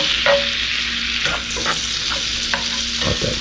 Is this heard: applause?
no